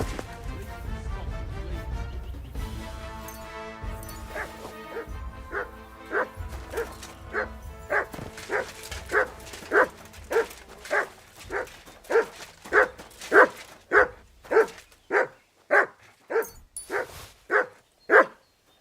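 A dog in Kingdom Come: Deliverance II whimpers and then barks in a long, regular series of yips that grow louder and more insistent, close by, with some muffled game sound underneath at the start.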